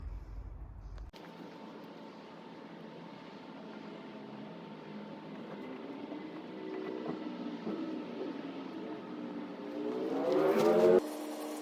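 Car engine hum from inside a vehicle being driven, a steady low drone that grows louder and rises toward the end as it accelerates.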